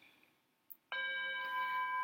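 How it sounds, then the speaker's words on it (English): A meditation bell is struck once and rings out with a steady, sustained tone that holds without fading, after a quiet lead-in with a faint tap just before the strike. "So that's the same bell tone that we'll hear at the end."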